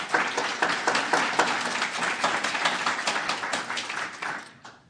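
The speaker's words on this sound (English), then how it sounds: "I think people want to clap" Members of the audience at a public inquiry hearing clap together in a steady burst of applause that carries on for several seconds before tapering off at the close.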